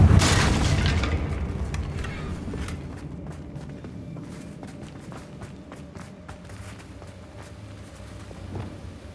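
A Confringo blasting curse in Hogwarts Legacy bursts loudly at the start, then decays into a long rumbling tail scattered with clicks and small debris taps.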